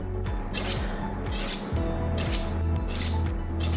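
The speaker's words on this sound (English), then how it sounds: "This is your knife steel, and this we use to sharpen your knives at a 40-degree angle." A knife is drawn repeatedly along a Victorinox sharpening steel in a kitchen. There are about five close, evenly paced bright scraping strokes over a steady low hum.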